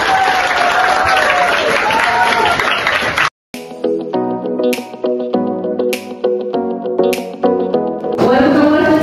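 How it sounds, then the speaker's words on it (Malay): A classroom of students claps during a school program for the first week of term, a dense burst of applause lasting about three seconds before it cuts off and tonal music takes over. "Okey, tepuk tangan sikit dalam dia."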